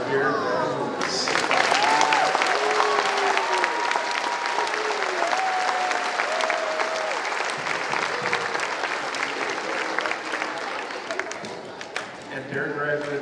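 Sustained applause from a school audience honoring DARE program graduates, steady dense clapping that fills the whole stretch, with a few voices and whistles rising over it near the start.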